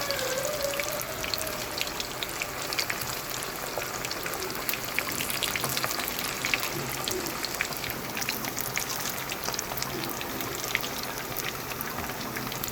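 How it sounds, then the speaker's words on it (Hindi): Rice and potato cutlets shallow-fry in oil over medium heat, giving a dense, even crackling hiss that stays steady and close throughout, with scattered faint pops and no voices. "फ्राई होना शुरू हो गए, ये नीचे से फ्राई हो गए हैं।"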